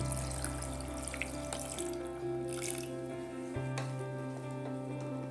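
About half a glass of water pours into spicy chicken roasting in a pan, a steady close splashing stream over a low cooking hum, with a faint sizzle underneath.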